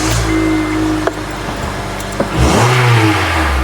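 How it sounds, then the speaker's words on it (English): A Honda Element engine is cranked and catches: the starter whirs briefly, then the engine fires with a rising rev before settling into a loud, close idle. "I'm gonna start the engine."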